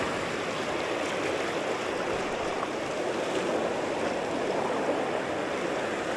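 Sea water washing up a beach during the tide, a loud continuous broadband rush of surf without breaks, close and steady throughout with no voices.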